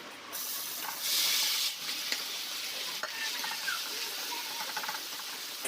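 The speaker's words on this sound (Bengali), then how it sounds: "তেল গরম হয়ে গেছে এবার দিয়ে দেবো মাছগুলো" Amudi fish hit hot mustard oil in a kadai, setting off a burst of loud sizzling that settles into a steady crackle and spatter. There is no talking.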